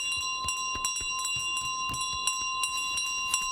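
A small bell in Untitled Goose Game rings in repeated bright metallic dings, about a dozen strikes in an uneven rhythm, loud and close over a steady tonal background.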